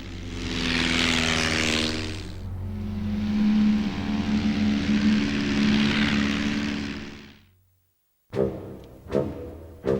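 A WW1 propeller aircraft roars past with a loud droning engine that swells and fades. After a brief silence come a few sharp, close thumps.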